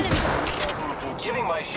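Enemy gunfire in a video game crackles in rapid bursts of shots, loud and close, with a voice talking over it.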